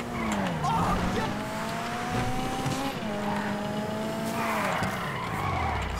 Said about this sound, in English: Spun that out